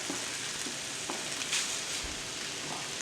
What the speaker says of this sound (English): Oh, that sounds sizzling.